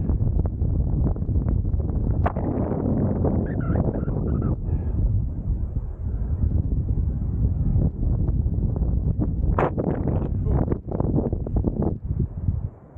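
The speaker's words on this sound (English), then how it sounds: "That's a bit breezy." Gusty wind buffets a coastal cliff top on the Great Ocean Walk, a steady, loud broadband roar with brief rustling flutters that lasts throughout, and no voices.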